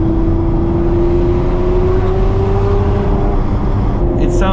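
Ferrari V12 with a six-speed gated manual and an aftermarket exhaust, roaring loud and close as it holds a steady high rev with a slowly rising tone, easing slightly near the end.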